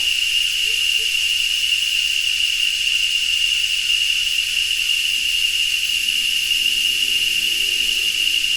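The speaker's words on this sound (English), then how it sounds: "my little immersive video into the world of the cicada" Cicadas buzz in Uvita, Costa Rica, in a steady, piercing, unbroken drone, loud and close, with faint low background sounds beneath.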